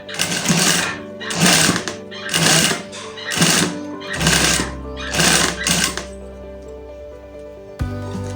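A sewing machine stitches fabric while gathering it, giving six quick, close, loud bursts of rapid mechanical chatter with brief pauses between them, then settling into a steady low hum before one last short start.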